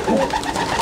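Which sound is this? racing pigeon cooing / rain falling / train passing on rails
racing pigeon cooing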